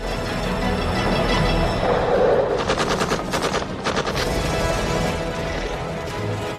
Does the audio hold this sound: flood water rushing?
no